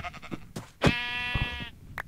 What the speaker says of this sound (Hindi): भेड़